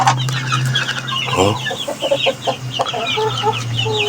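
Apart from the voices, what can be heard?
hen clucking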